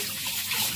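Tap water runs steadily while fish is washed in a kitchen, a close, continuous splashing rush that lasts the whole brief moment without pause.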